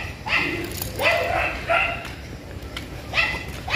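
Dogs bark several times in short bursts, fairly close, with a faint whimper and some background noise between the barks.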